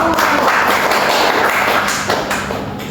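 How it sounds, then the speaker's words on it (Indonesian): A classroom of students claps together for a group that has just finished presenting in an acids-and-bases chemistry lesson, a dense, steady burst of many hands close by that tapers slightly toward the end. "Beri tepuk tangan untuk kelompok 1."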